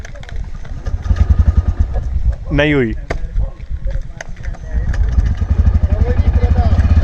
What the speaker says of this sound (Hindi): अब चेक करते हैं कि अपनी बाइक कितनी बारी में स्टार्ट होती है।